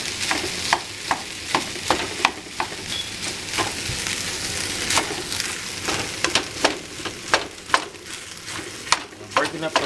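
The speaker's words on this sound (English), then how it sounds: "I'm breaking up the rice so it can be just well incorporated." Cooked rice is broken up and stirred in a sizzling pan during a chicken thigh and vegetable meal prep, with a continuous fry hiss and a regular rhythm of sharp scraping strokes from the utensil, close and fairly loud.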